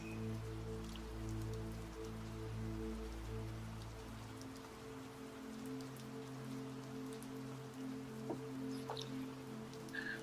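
Steady rain shower pattering on surfaces, a dense, even hiss of drops that continues throughout beneath a low sustained hum.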